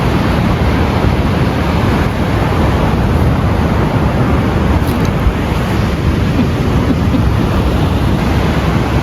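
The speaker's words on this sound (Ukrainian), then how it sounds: "Море такі хвилі дуже." Loud, continuous roar of sea waves breaking on a beach on the Spanish coast, with heavy wind buffeting the microphone and no voices.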